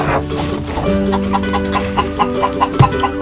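Chickens cluck steadily inside a backyard coop, a repeated series of short, fairly close calls running for a few seconds with no talking.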